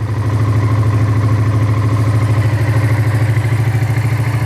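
A Honda Ascot motorcycle engine runs loud and close in cold weather, a steady, rapid pulsing idle held at a high, even pitch through the whole stretch with no voices.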